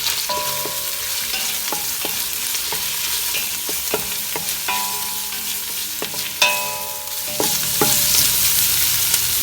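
Long-sliced onion, dried lemon and two green chillies sautéed in a pan, with steady loud sizzling, scattered scraping stir strokes and a few clinks of a spoon against metal.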